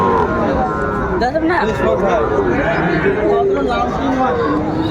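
Shahiwal bull calves at a crowded cattle market in Rajshahi low and moo amid loud, continuous crowd chatter and bargaining voices.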